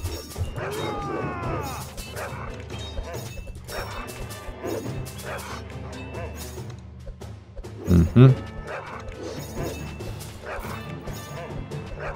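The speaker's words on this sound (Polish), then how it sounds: "jakieś wielkie psy idą. E, tak, to są większe psy" Big dogs bark in the video game Kingdom Rush, scattered yips and woofs among game clatter under someone talking, with a louder burst of barking near the end.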